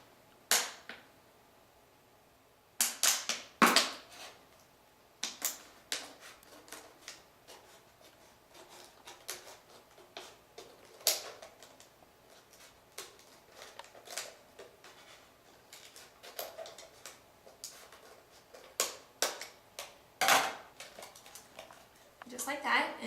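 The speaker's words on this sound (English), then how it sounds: "Next, we're going to cut the bottle. We want to cut at the halfway line." A plastic bottle is cut in half at its midline, giving sparse, close crackling snips and sharp plastic clicks spaced irregularly over quiet pauses.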